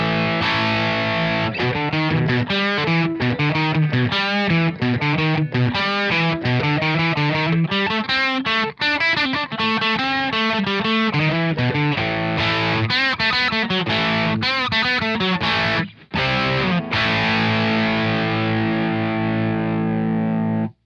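An electric guitar played through an SCB6 with heavy distortion gives a riff, loud and continuous, with chords and single-note runs, brief gaps, and a sustained chord ringing out at the end.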